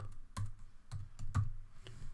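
Typing a command on a Mac computer keyboard, a handful of soft, spaced key clicks, close and fairly quiet, with no talk.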